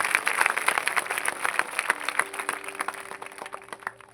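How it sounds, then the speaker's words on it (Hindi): A congregation at a New Year festival church service claps together, a dense patter of many hands that stays fairly steady before thinning out toward the end, with no talk over it. "एक बार और ताली बजा के प्रभु को धन्यवाद दीजिए।"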